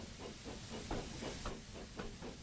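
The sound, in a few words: steam engine hissing as it puffs away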